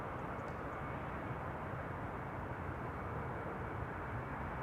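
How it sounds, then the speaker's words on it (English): KLM narrow-body jet taking off from runway 18 left at Amsterdam Schiphol: a steady, broad engine roar carrying at a distance, with no voices. "another KLM narrow body in the background that just now took off from 18 left"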